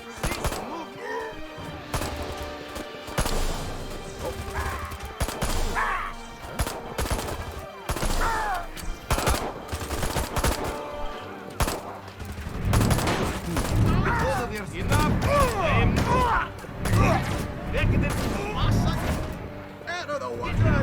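Rapid gunfire in the Destroy All Humans! 2 video game, dense bursts of shots and impacts crackling loudly and continuously, growing heavier toward the end, with character voices shouting over the fighting.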